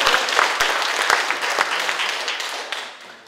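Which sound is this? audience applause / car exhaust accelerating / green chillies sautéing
audience applause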